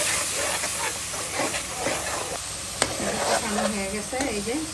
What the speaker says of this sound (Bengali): ধনিয়া জিরা কষিয়ে নেব